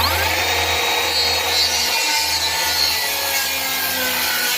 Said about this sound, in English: I'm gonna go ahead and throw a 45 on here, and we'll cut that 45 angle.